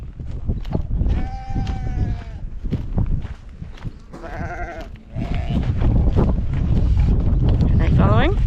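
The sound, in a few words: sheep and lambs bleating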